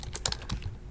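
Fast clicking keystrokes on a computer keyboard, a short close burst of several taps that fades into a quiet pause.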